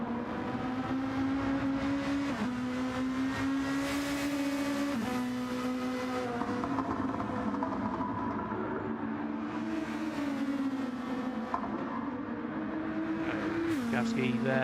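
A Nissan GR2 race car in a racing video game lapping Circuit de Spa-Francorchamps, its engine holding a steady high drone with sharp gear-shift drops and rising revs, under continuous commentary.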